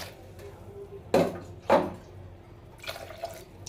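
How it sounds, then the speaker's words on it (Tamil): Two short splashing pours of water land one after another into a pot of sambar, followed by softer trickling and clinks, close by in a quiet room. "கொஞ்சம் தண்ணி ஊற்றிக்கலாம்"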